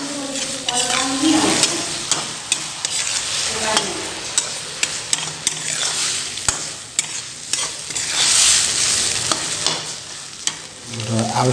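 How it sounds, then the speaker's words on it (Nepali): A spoon stirs potato and bamboo shoot soup seasoned with Sichuan pepper in a pot, scraping and clinking in a steady rhythm over a constant close sizzle, with no talking. "र त्यसपछि हामीले तामा लगाइदिने, टिमुर लगाइदिने थोरै हामीले र मजाले चलाउने"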